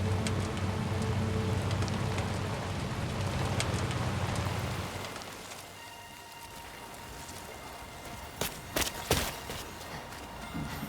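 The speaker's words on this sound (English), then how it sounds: "Whenever I stepped outside, the timefall came." Timefall rain in the video game Death Stranding 2 On The Beach, steady soft rainfall that thins out midway, followed by a few sharp footstep-like taps near the end.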